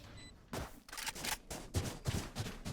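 Rapid bursts of gunfire in the tactical shooter Valorant, several sharp volleys rattling off in quick succession at moderate loudness, each burst clipped short between brief gaps.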